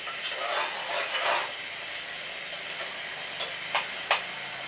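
Red oil jollof rice with crayfish frying in a pot, a continuous close hiss and sizzle with a few sharper stirring scrapes near the end.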